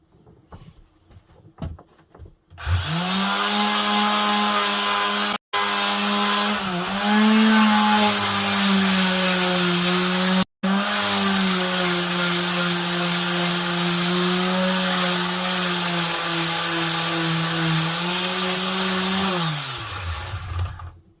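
Power tool sanding scratches off an alloy wheel during a DIY diamond-cut refurbishment, a loud steady motor whine that starts abruptly, runs with two brief cutoffs, then winds down near the end.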